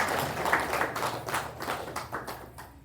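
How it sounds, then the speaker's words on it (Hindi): An audience at a spiritual class claps in a brief burst of applause, moderately loud and dense at first, then thinning out and fading. "इसलिए उनके ताली बजाओ"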